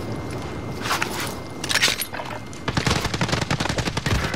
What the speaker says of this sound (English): I'm getting shot through the sandbag